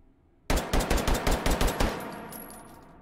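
A Llock pistol fitted with a stock and muzzle brake fires in the H3VR video game: about seven quick, loud, close shots in a fast run after a moment of quiet, then a ringing decay into silence.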